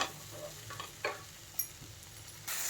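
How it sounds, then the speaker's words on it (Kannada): Turmeric-coated mushrooms sizzling quietly in a pan for a Kerala-style mushroom curry, with a soft, steady hiss broken by a few light scrapes and clicks from stirring. "ಫ್ರೈ ಆಗ್ತಾಯಿದೆ ಮಶ್ರೂಮ್ಸ್ ಎಲ್ಲ"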